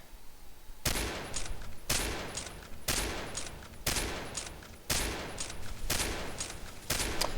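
An M24A3 sniper rifle in the video game Combat Arms fires seven loud, sharp shots about one second apart, each blast trailing off in a short echo before the next.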